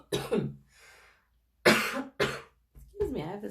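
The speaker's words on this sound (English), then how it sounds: "I have this dry cough." A dry cough from an adult woman, a couple of short harsh bursts breaking up her otherwise calm talking, close and fairly loud.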